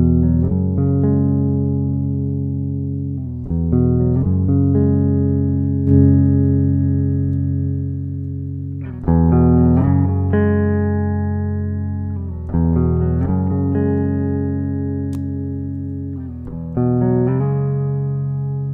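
Electric guitar played through an IK Z-Tone buffer boost pedal set to the bold side with added gain, strummed in sustained chords that ring out and change every few seconds, with no talking.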